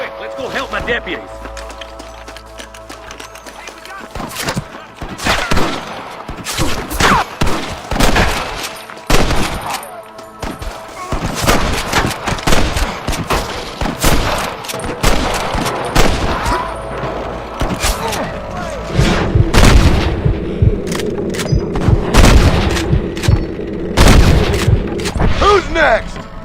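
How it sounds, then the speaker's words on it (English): Loud, rapid gunfire in repeated bursts and volleys from the video game Red Dead Redemption, with heavier booming impacts building toward the end. "I can hear more gunshots."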